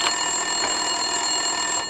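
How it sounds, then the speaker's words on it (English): A telephone rings steadily through an office scene in the Max Payne 2 video game, a bright electronic trill that sustains at even loudness across the whole stretch with no voices. "Winterson's phone was ringing."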